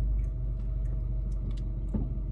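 A car engine idles or runs with a deep, steady low rumble close by, with a few faint clicks and thumps over it.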